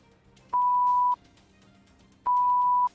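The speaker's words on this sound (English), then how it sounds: "Thank you for the beeps." Two identical electronic beeps from a panic button, each a steady pure tone lasting about half a second, spaced well apart over a faint background hum.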